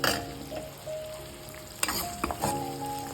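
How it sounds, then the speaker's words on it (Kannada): Onion and curry leaves fry in a pan for a moong dal gravy, a steady close sizzle with a few clinks of a stirring spoon against the pan and no voices. "ಕರಿಬೇವು ಹಾಕಿ, ಈರುಳ್ಳಿ ಹಾಕಿ ಚೆನ್ನಾಗಿ ಕೆಂಬಣ್ಣ ಬರೋವರೆಗೂ ಉರಿ ಫ್ರೈ ಮಾಡಿ ಚೆನ್ನಾಗಿ."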